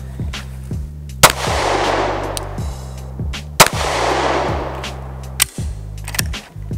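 A Glock 19 MOS pistol fires at a shooting range: three sharp, loud reports spaced roughly two seconds apart, each cutting through a steady low background hum.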